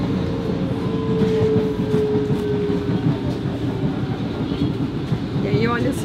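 A train rolls steadily along the rails close by, a dense continuous rumble with faint wheel clatter and a high tonal squeal that drifts and fades, while a voice talks over it.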